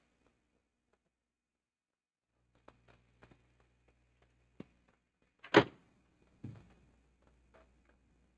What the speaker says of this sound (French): La porte!